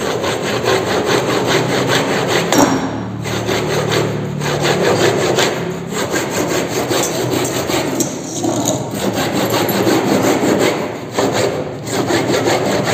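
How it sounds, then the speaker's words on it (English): Hand saw cutting a piece of wood held in a bench vise during a workshop practical, a loud, steady rhythmic rasp of back-and-forth strokes with brief pauses, close to the microphone. "This is how we cut the wood with the saw."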